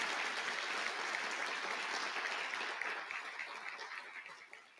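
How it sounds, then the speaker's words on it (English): An audience applauds at an educator awards ceremony, a dense steady wash of clapping heard from a distance, fairly faint and tapering off toward the end. "you can applaud that"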